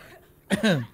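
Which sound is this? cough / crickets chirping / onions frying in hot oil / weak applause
cough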